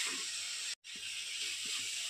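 Spices such as chilli powder, turmeric and garam masala sizzle steadily in a hot frying pan, a continuous broadband hiss with one brief break midway, heard alone without talk.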